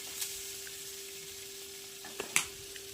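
Chillies, bay leaves, cauliflower and potato frying in hot oil in a wok give a faint, steady sizzle with a couple of small sharp pops, under a low constant hum; no one speaks.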